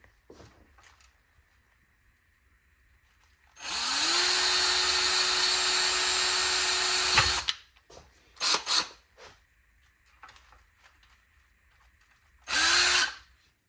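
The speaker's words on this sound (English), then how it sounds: "I went ahead and made a little hole right there with my drill bit." A power drill bores a hole in a Jeep Grand Cherokee map light, with a steady high whine for several seconds as the motor spins up, then short bursts and a final brief run, loud and close.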